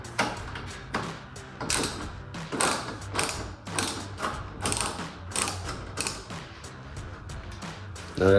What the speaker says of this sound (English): I'm using a ratcheting screwdriver.